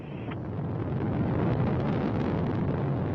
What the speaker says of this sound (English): The thrusters of the first and second stage are operating nominally.